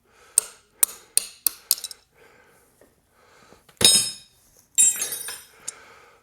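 Metal tapping and clinking while a cotter key is worked out of an engine's main shaft during an engine failure inspection: a run of sharp, close clicks and taps, then a few louder scraping bursts of metal on metal.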